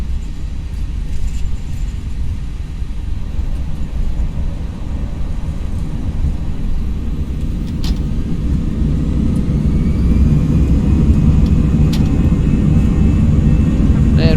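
Airbus A321 jet engines spooling up to takeoff thrust in a ToLiss flight simulator, a steady loud low roar that builds slightly over the run, with no talk over it.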